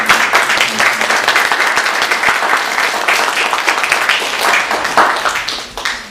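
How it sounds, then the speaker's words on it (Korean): A church congregation at a Sunday worship service claps in welcome for a visiting pastor, giving dense, steady applause at close range that tapers off near the end. "박수로 환영해 주시면 감사합니다."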